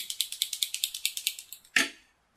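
A paint marker pen is shaken hard so the ball bearing inside rattles in a quick, even string of about a dozen close, crisp clicks, then ends with one louder knock.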